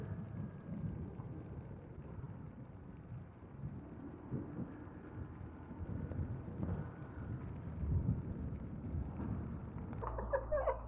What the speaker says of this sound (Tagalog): Ang lamig-lamig ng hangin.